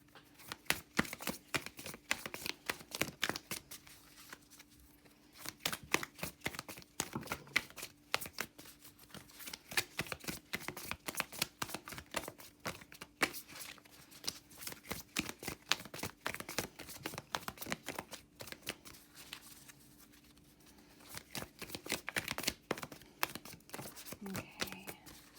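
Tarot cards being shuffled by hand in quick, soft riffling bursts that repeat over and over, close and fairly quiet, with a short pause near the end.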